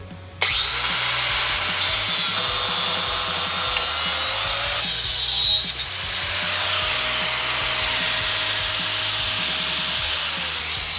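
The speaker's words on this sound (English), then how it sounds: "turn the pump on and see what nastiness comes out of the fuel line" A steady mechanical whine of an electric fuel pump on a 1979 MG runs continuously, loud and close, with a brief change in pitch partway through before settling back to a constant drone.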